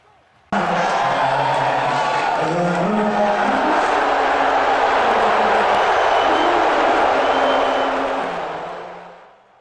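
A big arena crowd booing during the national anthem as the president is shown on the Jumbotron, a dense sustained roar that starts abruptly, holds loud for several seconds, then slowly fades.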